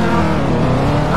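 Video game vehicle engine driving through a field, a loud steady motor drone with layered tonal hum, close and continuous throughout.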